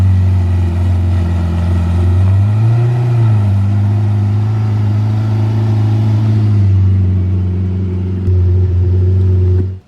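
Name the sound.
Ferrari 488 car driving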